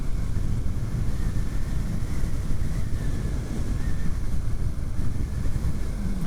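A DIY electric motorcycle with a LiFePO4 battery pack is ridden flat out at about 45 mph in second gear, with strong, steady wind roar buffeting the microphone throughout and no clear motor whine standing out.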